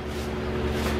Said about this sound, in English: that is a fan blowing. It's sucking out the exhaust